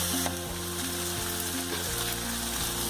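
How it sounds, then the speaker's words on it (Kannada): Tomatoes and green peas for tomato-onion uppittu frying in a pan while being stirred, a loud, steady close sizzle with scraping stir movements and no voices. "ಟೊಮೆಟೊ, ಗ್ರೀನ್ ಪೀಸ್ ಹಾಕಿ ಸರಿಯಾಗಿ ಮಿಕ್ಸ್ ಮಾಡಿ"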